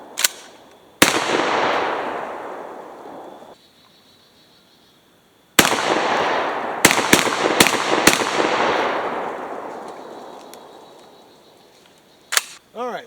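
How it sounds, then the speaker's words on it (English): Beretta A300 Ultima Patrol shotgun fired during a quick reload: one loud blast with a long ringing echo, a pause, then a rapid string of about four more shots that reverberate outdoors, followed by faint handling clicks. "Here is me trying to attempt to do a quick reload."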